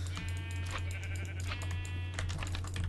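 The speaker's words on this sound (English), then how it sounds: "Now I need more wool, so I'll just auto-attack these sheep for 4 hours." Sheep bleating repeatedly in the Minecraft video game on a superflat world, several close, loud bleats over a steady low game hum with faint clicking.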